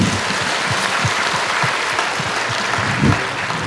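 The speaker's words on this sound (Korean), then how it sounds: "박수 한번 주세요" Audience at an education vision ceremony applauding in a dense, even wash of clapping that holds steady for a few seconds, loud and continuous with a slight swell near the end.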